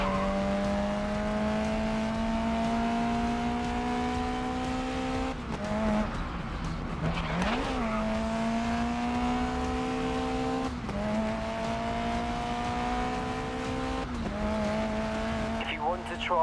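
A car in the racing game Grid Legends drives steadily with a loud sustained engine tone that shifts pitch through gear changes, with brief tire squeals and sliding noise, and voices talking over it.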